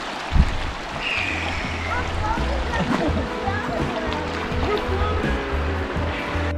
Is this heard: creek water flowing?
yes